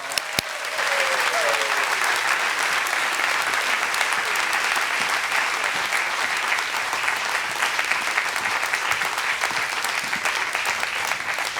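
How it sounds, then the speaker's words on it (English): A lecture audience gives a big round of applause to welcome a guest speaker. The clapping is dense and sustained, runs steadily for about ten seconds, and starts abruptly after a brief quiet moment. "Let's give a big round of applause."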